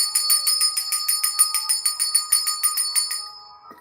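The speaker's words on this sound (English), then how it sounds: "Ring that beautiful money bell." A bright metallic money bell rings rapidly and steadily, about twenty quick strikes shimmering close by before the ringing trails off into a fading resonance.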